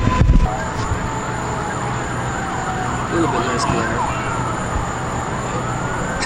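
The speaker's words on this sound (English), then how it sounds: "And I still hear more sirens approaching." Wailing sirens rise and fall at a distance over steady traffic rumble, with a brief spoken phrase and handling noise near the start.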